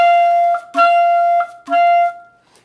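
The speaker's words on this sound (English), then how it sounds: "This is too much pressure sort of smacking the reed." Clarinet notes tongued with too much pressure so the tongue smacks the reed: three sustained, bright, buzzy tones, each starting with a percussive slap, played close and loud.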